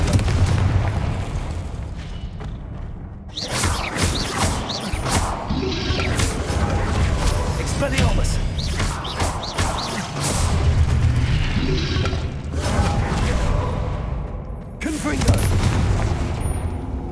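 Spell explosions in the Hogwarts Legacy video game, several deep booming blasts and crashes rolling out over about seventeen seconds, loud and dense, mixed with game music and effects.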